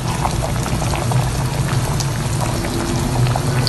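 Fish stew broth for paksiw na tulingan, with eggplant pieces, bubbles steadily in a pot, a continuous close bubbling and gurgling simmer with no talk.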